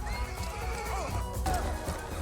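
A horse in the animated film Spirit: Stallion of the Cimarron neighs in a wavering whinny over clip-clopping hooves and a busy movie soundtrack.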